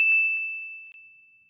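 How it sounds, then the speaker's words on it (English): A single bright bell ding, struck once and ringing with a clear sustained tone that slowly decays, heard alone. "I forgot the bell, actually."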